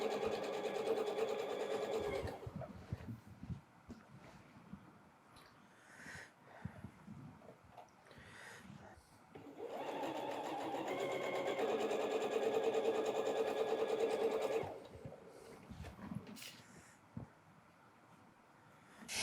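A sewing machine stitching a GO! Flying Swallows quilt block runs in two long steady whirring bursts, close and fairly loud, separated by quieter handling noises.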